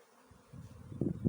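Honeybees buzzing near a hive as they bring in pollen and collect water, a low droning hum that starts faint and swells louder toward the end, with brief closer passes.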